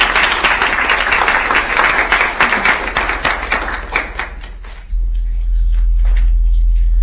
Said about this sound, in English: So please give them a round of applause for their hard work.